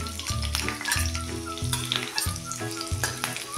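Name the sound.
chopped green chillies frying in hot oil and ghee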